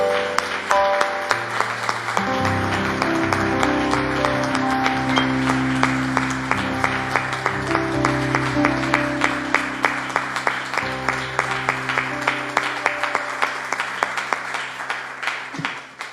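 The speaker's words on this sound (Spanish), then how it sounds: "Dale un aplauso al Señor" Applause from a church congregation during a Spanish-language Christian service, steady and loud for about sixteen seconds, layered with held musical tones and voices beneath the clapping.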